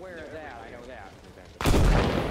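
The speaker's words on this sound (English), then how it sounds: "There's going to be a secondary explosion." A sudden loud secondary explosion booms in the video game Arma Reforger, a heavy burst that cuts in after a stretch of talk and rolls on as a dense rumbling roar.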